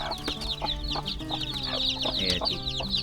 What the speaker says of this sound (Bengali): আর এইখানে হলো দেশি মুরগি পালন করে